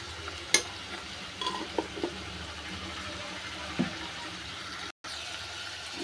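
Okra (bendakaya) sizzles softly in a pan with salt added, with a few scattered clinks and scrapes of a spoon stirring, quiet and close.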